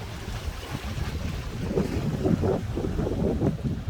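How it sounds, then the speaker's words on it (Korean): Wind buffets the microphone at a Korean seaside while waves and surf roll in, making a steady, loud, rushing roar with no voices. "아, 여기 바다입니다, 여러분. 바다. 한번 보세요."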